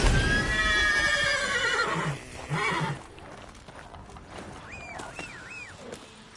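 A horse in The Witcher 3 gives a loud, close whinny lasting about two seconds, followed by quieter snorts and faint hoof sounds against a low ambient game background.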